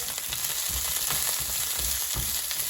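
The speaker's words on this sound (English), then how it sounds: "here the oil is sizzling" Steady, close sizzling of bell peppers frying in hot oil over medium-high heat, with a few soft stirring scrapes in the pan.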